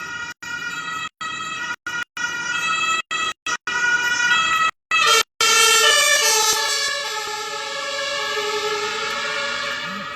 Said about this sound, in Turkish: şu an ambulans var da